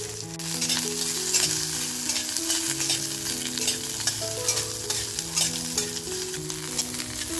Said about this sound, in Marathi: त्याच्यामध्ये बघा जो आपण अर्धा कापलेला कांदा आहे तो टाकून घेऊया